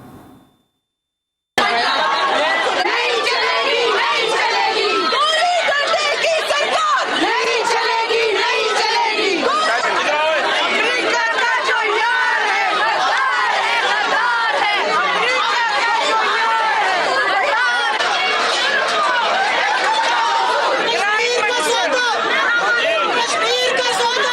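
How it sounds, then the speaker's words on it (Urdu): PTI women protesters chant slogans against the government outside parliament, a loud continuous crowd of voices shouting together that starts abruptly after a brief quiet moment and holds steady for the rest. "PTI کی دیگر خواتین حکومت کے خلاف نعرے بازی کرتی رہیں۔"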